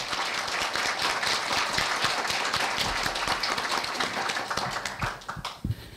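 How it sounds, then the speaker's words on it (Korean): Sustained applause from an audience at a university retirement ceremony and farewell lecture for a chemistry professor, dense steady clapping filling the room before thinning out near the end. "다 같이 큰 박수"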